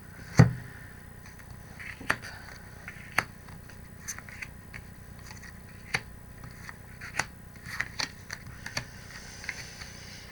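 Tarot cards being shuffled and handled at close range, a series of sharp, dry snaps and flicks at irregular intervals over a quiet background, with no speech.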